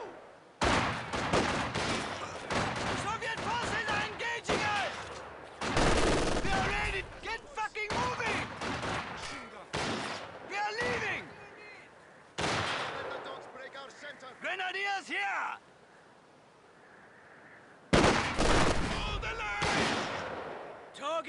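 Company of Heroes 2 Ardennes Assault battle: repeated bursts of gunfire and rattling machine-gun volleys, loud and dense, separated by short lulls, with in-game voices shouting between the shots.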